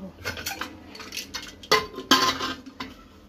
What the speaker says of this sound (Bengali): এবার আমি রান্নার জন্য কুকারের ঢাকনাটা লাগিয়ে নেব।